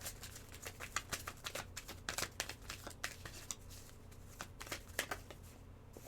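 Tarot cards are shuffled by hand in quick, uneven bursts of papery riffling and snapping, fairly close but soft, over a faint low background hum without speech.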